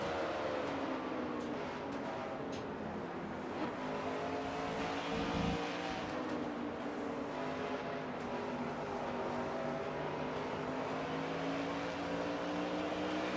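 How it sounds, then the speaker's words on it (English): Race car engines at Watkins Glen in a NASCAR-style racing video game, heard from inside the 42 car: a loud, sustained engine drone with shifting pitch throughout, other cars close by, no talking. "Riding along with Kyle Matthews in the 42 car"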